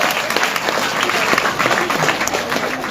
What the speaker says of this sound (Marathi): स्वतःसाठी जोरदार टाळ्या वाजवा.